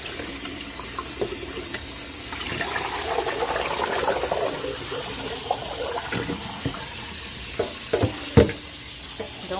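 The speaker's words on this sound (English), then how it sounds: "Now we're gonna rinse this out really, really good until it runs clear." Raw oxtails are rinsed in a kitchen sink under a running tap, water gushing and splashing steadily with meat being rubbed and knocked against the basin, a few sharper clunks near the end.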